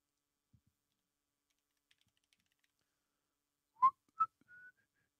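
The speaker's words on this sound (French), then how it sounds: "faut que je siffle" A person whistles two short sharp notes and then a brief sustained tone, close and alone in an otherwise quiet room with a few faint clicks.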